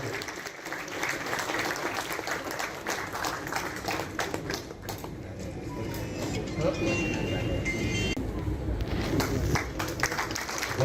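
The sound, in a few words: loud audience applause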